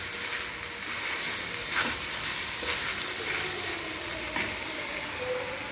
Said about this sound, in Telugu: ఈ చిక్కుడికాయ ముక్కలను కూడా వేసుకోవాలి వేసుకొని ఒక్కసారి కలుపుకుందాం